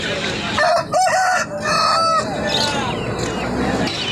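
A rooster crows loudly nearby, followed by clucking chickens, including fighter breeds, amid a busy outdoor crowd murmur at a market in Bangladesh.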